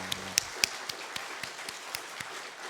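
A church congregation at a Sunday worship service claps to bless the children, a steady patter of light claps with a few sharper slaps up front, moderately loud and unaccompanied by speech.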